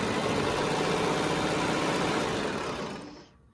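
A sewing machine stitches fabric for half-square triangle quilt blocks, a fast, even mechanical whir running close and steady for about three seconds before winding down and stopping.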